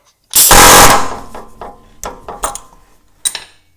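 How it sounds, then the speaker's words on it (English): A cutoff wheel grinds through a stuck pitman arm on a TJ Jeep Wrangler's steering box: one loud, harsh, sustained burst, then several shorter, quieter cutting bursts with brief pauses between them. "Back to the cutoff wheel."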